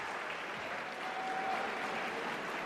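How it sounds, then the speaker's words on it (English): A crowd in a school district auditorium applauds, a continuous, fairly faint and uniform wash of many hands clapping with no distinct individual claps. "Can you do the clapping?"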